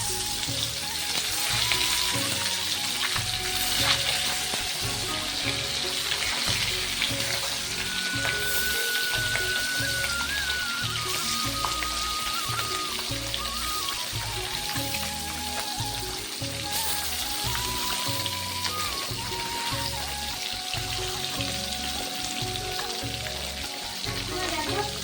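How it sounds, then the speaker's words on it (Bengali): Fish frying in hot oil until crispy gives a loud, continuous close-up sizzle with dense crackling and popping that never lets up. "চলো মাছগুলোকে ভালো করে মুচমুচে করে ভেজে নিই।"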